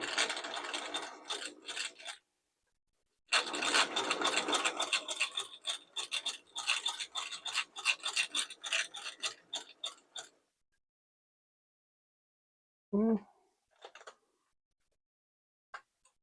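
A Singer Model 758 sewing machine with a slant needle, freshly cleaned, runs in two bursts of rapid rattling stitches, close and fairly loud, then stops; a few brief clicks and a short tonal whir follow in the quiet.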